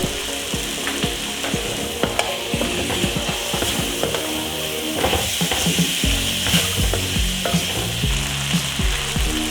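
Eggplant and ground pork with sugar sizzle in a pan while a utensil stirs and scrapes, giving repeated clicks and knocks against the pan over a constant frying hiss.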